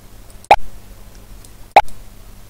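Two sharp, isolated mouse clicks about a second apart, made while popping a balloon target in a simple Scratch programming game, close and clear over a faint low hum.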